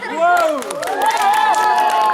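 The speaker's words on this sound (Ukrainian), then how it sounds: "Плескайте їм." Children's audience at a dance flash mob clapping and cheering as performers for a fairy-tale play are introduced, a loud burst of mixed clapping with excited shouting and voices throughout.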